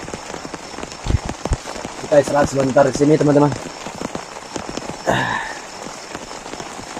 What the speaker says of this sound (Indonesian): Karena hujan ini deras sekali.